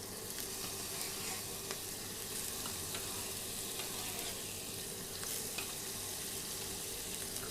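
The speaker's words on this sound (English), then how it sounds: "get it tossed in the butter" Tenderstem broccoli tossed in butter in a hot pan gives a steady, close sizzle and fry, with faint stirring clicks scattered through and no talking.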